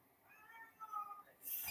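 A cat lets out a single drawn-out, faint meow, followed by a brief burst of louder noise.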